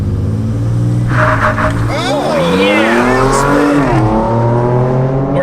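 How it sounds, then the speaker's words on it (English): A modern pickup truck launches hard in sport mode, its engine roaring loud and close as it revs up through rising pitch sweeps and gear changes, with a person exclaiming over the noise. "I can build some boost from a launch in this truck."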